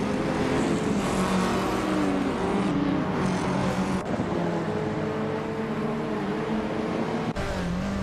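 Steady, dense engine drone of several race cars in a racing video game, led by a classic 1978 BMW M1, droning continuously with no break across the whole stretch.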